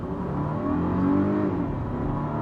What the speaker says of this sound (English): here's where we do our traffic light Grand Prix acceleration test